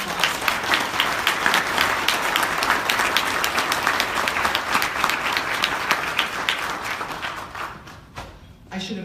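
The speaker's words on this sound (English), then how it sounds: "Let's give them a round of applause." An audience at an early learning symposium applauds, a sustained burst of many hands clapping in a hall that fades out near the end, with voices audible underneath.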